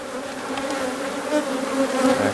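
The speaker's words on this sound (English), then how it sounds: "Active hive." Honey bees drone steadily at an active hive, a close, dense and continuous buzz with no pauses and no voices over it.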